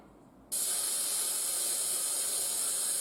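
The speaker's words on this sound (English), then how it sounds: "We just wait for it to dry a little bit while I'm cleaning the airbrush." An airbrush sprays Vallejo airbrush cleaner in a steady, loud, continuous hiss that starts abruptly and holds without a break, close up, with no talking.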